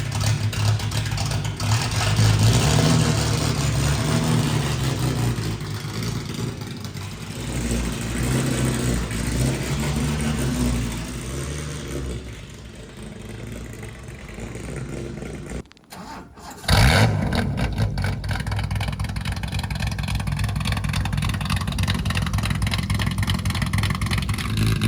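A straight-piped cheap supercar engine drones loudly while driving, its raw exhaust rising and falling with throttle, then briefly cuts out before barking back to life with renewed revving.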